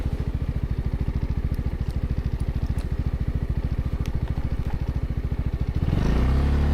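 A ZONTES 368G 300cc scooter engine in S riding mode, idling with a steady rapid pulsing thrum, then the throttle opens near the end and the engine note rises into a louder, smoother rev, close by with no talk.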